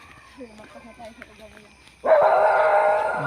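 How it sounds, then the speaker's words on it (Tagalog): Dogs bark and yip at a distance in the dark in Bohol, Philippines, beneath people talking, before a loud rushing noise abruptly covers everything. "Ang daming aso."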